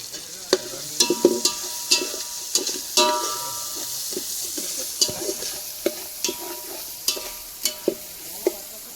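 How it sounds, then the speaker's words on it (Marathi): Four green chillies fry in a pan of mutton curry, sizzling steadily while a spoon stirs and scrapes with sharp, repeated clicks and taps, close by with no talking. "आधी टाकते मस्त मिरची, 4 मिरच्या टाकल्या."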